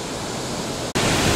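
Grand Falls, a waterfall just below a dam near Joplin, Missouri, roars as a loud, constant broadband rush of falling water, with a brief dropout near the end before the roar resumes.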